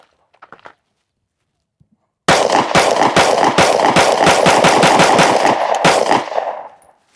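Sig P365 pistol rapidly firing Sig Sauer V-Crown 115gr JHP rounds outdoors, a loud burst of many quick, closely spaced shots over about four seconds after some quiet handling noises, then fading echo.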